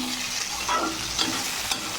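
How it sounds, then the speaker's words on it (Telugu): Tomatoes frying in a tempering of peanuts and chana dal for semiya upma, a steady soft sizzle with a few light stirring scrapes, close and alone without talk. "టొమాటో కూడా వేసి మంచిగా టొమాటో మెత్తగా అయ్యే వరకు కొంచెం ఫ్రై చేసుకోండి"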